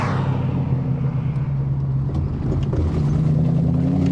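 A 1998 Ford SVT Cobra cruising down the road, its exhaust giving a steady, loud, deep drone with road and wind noise and no one talking.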